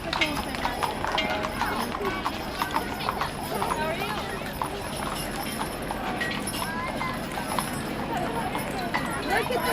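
Horses' hooves clip-clop on pavement during a cattle drive, a steady irregular patter of many hoofbeats at moderate distance under crowd chatter and people talking nearby.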